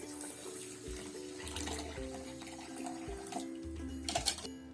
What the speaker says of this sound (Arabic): نحط عليه ميه دافيه